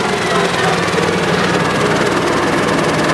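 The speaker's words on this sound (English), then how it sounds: "See that mower going fast enough, RPM wise, to suck that up." A mower engine runs steadily while cutting a field of Imperial Whitetail clover, a loud, close, continuous drone with a low rumbling throb and no break.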